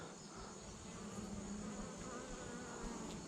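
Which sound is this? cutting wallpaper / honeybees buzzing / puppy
honeybees buzzing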